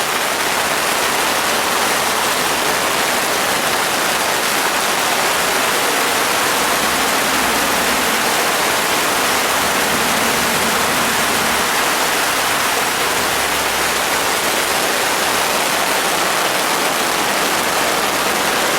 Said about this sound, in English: And you can see the rain, it's coming down hard.